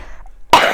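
A woman coughs once, a single loud, harsh burst close by at the very end, following a moment of near silence while sewing and quilting work goes on.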